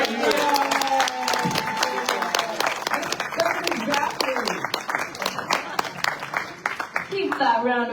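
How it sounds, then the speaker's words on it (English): Sustained audience applause following a talk on life in the sixgill shark capital, continuous dense clapping filling the room with a voice speaking over it. "Keep that round of applause going for Malik"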